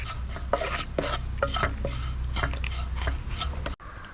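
Spice powders, including fenugreek powder, being stirred in a pan while making gooseberry pickle: repeated close scraping strokes of a spoon on metal with a faint sizzle, ending in a sudden cut.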